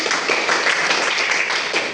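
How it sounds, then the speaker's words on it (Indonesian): Classroom pupils clap their hands together at the teacher's prompt during a microteaching lesson, a short, close, busy burst of many overlapping claps. "tepuk tangan dulu"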